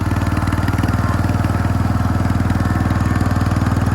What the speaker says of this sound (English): Such a big little tractor, man, I'm telling you. It's like huge. Moves out pretty quick.